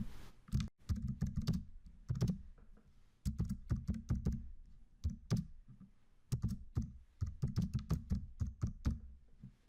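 Fast bursts of typing on a computer keyboard, crisp close clicks in rapid runs separated by brief pauses, no voices.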